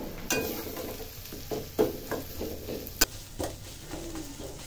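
Onions fry in oil while being stirred, a soft low sizzle under a handful of sharp scraping and clinking knocks from the utensil against the pan.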